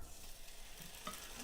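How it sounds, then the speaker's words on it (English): Duck pieces sizzle in a hot frying pan with a soft, steady crackle that swells slightly toward the end, recorded close and fairly quiet. "Doesn't that make a lovely noise, that sizzle?"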